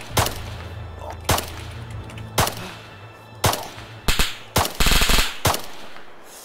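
Gunfire in the video game Arma 3 rings out as sharp, loud single shots at irregular intervals, then a quick cluster of rapid shots near the end.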